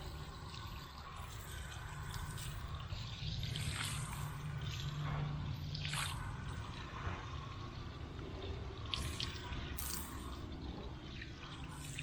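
Water pours and trickles steadily over a dirty car tire and wheel, washing away wheel cleaner and grime in a continuous close rinse with no talking.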